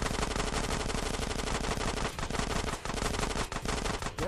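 Dense automatic gunfire from Grand Theft Auto San Andreas Definitive Edition, loud rapid bursts filling the whole stretch almost without pause, with a few brief dips between volleys.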